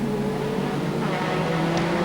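Race cars in a 1995 Indycarnival Group E/GT production one-hour race produce a continuous engine drone at moderate distance, a steady buzzing tone with no distinct pass-by, heard without commentary over it.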